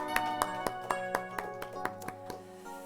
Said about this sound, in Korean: 박수로 크게 축복하시겠습니다.